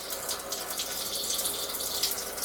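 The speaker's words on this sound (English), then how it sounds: "Let's just let a little bit of hot water." Water runs steadily from an RV shower head while the RV is winterized, a continuous hissing spray at moderate loudness with no voices.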